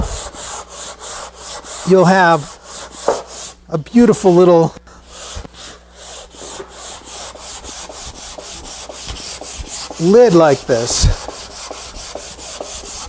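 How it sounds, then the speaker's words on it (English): Steady rubbing of a palm sander on pine, a repeated scratchy back-and-forth stroke, close by, with a person speaking briefly in between. "you could use a little palm sander"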